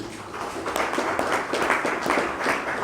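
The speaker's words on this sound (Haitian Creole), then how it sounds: "il y a un tonnerre d'applaudissements pour M." An audience gives a dense, sustained round of applause at a gathering, many hands clapping together in a steady wash of sound.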